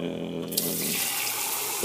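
A kitchen tap is turned on and runs steadily into a container, giving a continuous close rushing splash after a brief quieter start.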